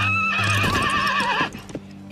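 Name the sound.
horse neighing and hooves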